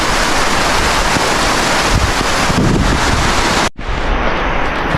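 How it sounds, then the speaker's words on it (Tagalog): Heavy rain pours steadily at the seaside, mixed with roaring wind and surf, loud and unbroken. The noise drops out for a moment near the end, then resumes. "Tara po, lakas ng ulan no."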